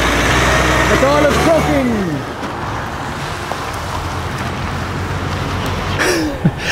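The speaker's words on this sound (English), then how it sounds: "Just got a quick shot of the DAF driving around there, guys." A DAF XF truck from McDonald trucking rumbles past, a loud engine drone that swells and then settles, with a brief hiss near the end and someone talking over it.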